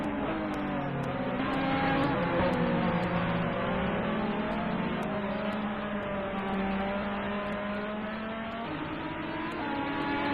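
Race cars lap Fuji in a sim racing video game through a chicane, their engines howling and shifting pitch as they brake and accelerate, a loud, continuous multi-car roar with no voices.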